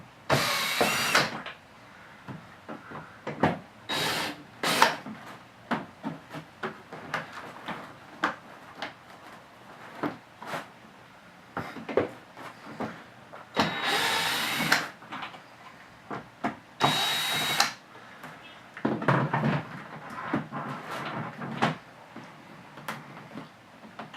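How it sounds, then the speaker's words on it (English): Dash screws come loose on a SPORTrax X7 RC vehicle, heard as close, small clicks and ratcheting taps from a hand or power driver, with a few louder bursts of whirring and handling noise spread through the stretch. "there's actually going to be screws in the dash here. You want to go ahead and just take these loose."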